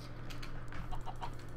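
Chickens clucking in the Minecraft video game, several short clucks in a loose irregular series over a steady low background hum, moderately close with no talk.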